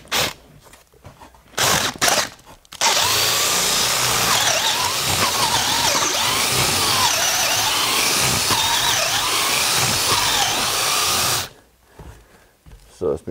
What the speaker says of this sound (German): Und dann bohren wir da oben mal durch.